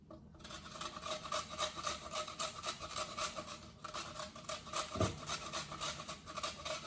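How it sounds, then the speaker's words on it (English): Peeled vegetables rubbed against a hand grater, a quiet repeated rasping scrape in steady back-and-forth strokes, close but faint. "what I'm gonna do is grate them"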